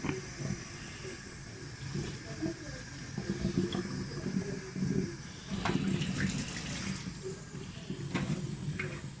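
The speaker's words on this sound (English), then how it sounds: "So I'm going to put some hot water in the sink." Hot water runs from a tap into a sink, a steady hiss and splash with soft clatter, close by, under light background noise.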